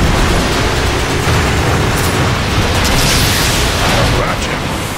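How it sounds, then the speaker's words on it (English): A Decepticon warp cannon blast from a Transformers movie roars as a loud, dense, sustained explosive rush that fills the whole stretch, with speech mixed in. "The Decepticon warp cannon!"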